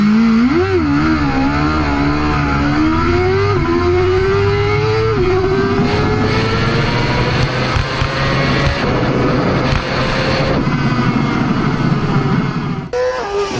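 A BMW S1000 RR superbike accelerates hard, its loud, close engine screaming upward in pitch through a long sustained pull with little letup.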